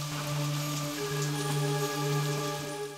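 Rain falls steadily as a sound effect in a stage play, a constant faint patter under a low steady hum.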